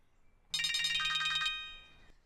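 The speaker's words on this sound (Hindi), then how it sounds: "फोन है, घंटियां बजी जा रही हैं" A telephone rings with a bright electronic warble, one burst of rapid trilling pulses lasting about a second before fading out, clear and close in an otherwise quiet room.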